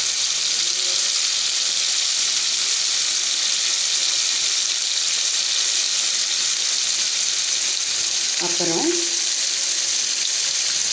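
Spices and mutton masala sizzle and fry in hot oil with a steady, loud crackling hiss, while a voice says a single short word partway through.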